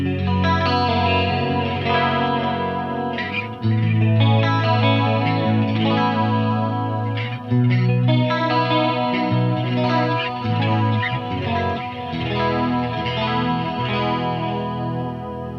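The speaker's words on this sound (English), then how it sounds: "let's dress it up with the Julia chorus and the flashback 2 delay and see what it sounds like now" Clean electric guitar chords and arpeggios through a Splawn Nitro amp's clean channel, shimmering with a Julia chorus and trailing Flashback 2 delay repeats, playing steadily and loudly without any talking.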